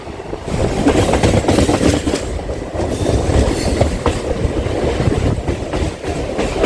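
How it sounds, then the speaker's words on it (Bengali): The Ranaghat–Sealdah local train stands at a platform, giving off a steady loud rumble with faint clickety-clack and rolling rail noise, with no voices. "এই যে ট্রেনটি দাঁড়িয়ে আছে"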